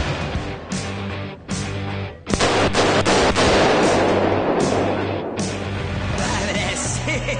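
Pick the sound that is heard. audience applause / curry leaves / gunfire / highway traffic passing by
gunfire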